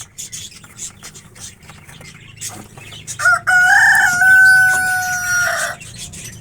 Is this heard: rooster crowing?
yes